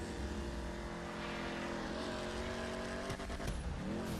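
A Declasse Vigero in GTA 5, fitted with aftermarket exhausts, accelerates hard on a drag track, its loud engine climbing steadily through the gears with a brief shift dip near the end.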